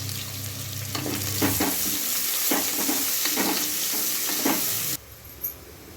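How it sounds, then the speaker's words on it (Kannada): Four medium onions frying in a pan for vegetable kushka, a loud, close sizzle with stirring scrapes, before the sizzle suddenly drops away near the end. "ಇವು ಕೆಂಪಗಾಗೋ ತನಕ ಫ್ರೈ ಮಾಡಬೇಕು."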